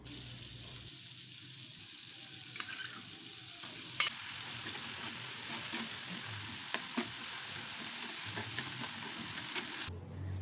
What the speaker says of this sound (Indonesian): Ini untuk menumis bawang putih yang udah ditumbuk halus